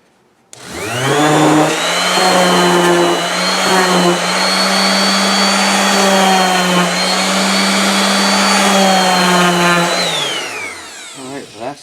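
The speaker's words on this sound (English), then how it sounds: "Let's give it a quick sand." A power sander works a small wooden snowflake Christmas ornament, running loud and steady with a whining hum for about ten seconds before spinning down.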